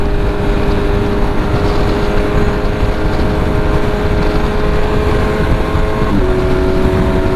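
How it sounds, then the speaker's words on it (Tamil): A Kawasaki Z900 inline-four motorcycle with a full-system LV exhaust and quickshifter, heard as a loud, steady engine drone on the move, with a brief shift in pitch near the end and no speech. "வண்டி எக்ஸாஸ்ட் சவுண்டு"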